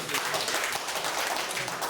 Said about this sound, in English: let's give another round of applause to our speakers